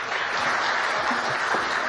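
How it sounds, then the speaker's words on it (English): An audience at a Times Now summit in India breaks into steady applause, a broad, even roar of many hands clapping that fills the hall without pause. "Huge round of applause, ladies and gentlemen."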